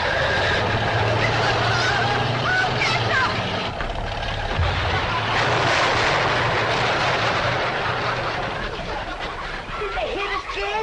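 Chickens squawk and cackle in a loud, dense clamor as an old truck nears a chicken house, with engine rumble and honking mixed into the steady noise throughout.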